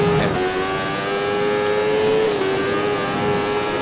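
A Moto2 motorcycle engine in the MotoGP16 video game, racing at the German GP in the rain, downshifts to second gear under engine braking. A loud, close, steady buzzing drone holds throughout, with a brief dip in pitch partway through.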